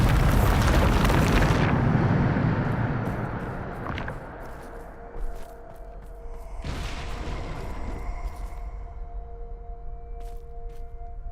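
In Hogwarts Legacy, the Bombarda blasting spell sets off a loud, booming explosion that rumbles and fades over a few seconds. A lighter burst follows, over a soft ambient game soundscape.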